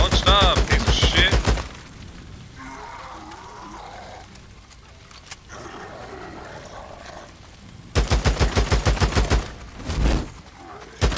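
Automatic gunfire in the Days Gone video game, rapid rhythmic bursts of shots at the start and again near the end, loud and close, with a quieter stretch of ambient noise and shouting between.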